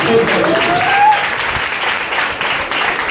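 A rally crowd bursts into loud, dense applause that holds steady throughout, with a brief whistle rising early on and a faint voice beneath the clapping.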